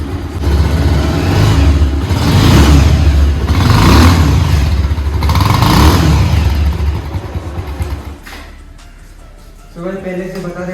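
A 2007 Bajaj Pulsar 200 motorcycle with a freshly built engine revs in three loud, swelling bursts close by, then drops back to a rough idle with a brief clatter near the end.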